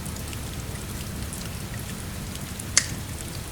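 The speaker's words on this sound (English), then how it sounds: "You can hear the rain, but it's distant now." Rain falls steadily with a soft, even hiss in the distance, and a single brief tap stands out near the end. No voices are heard.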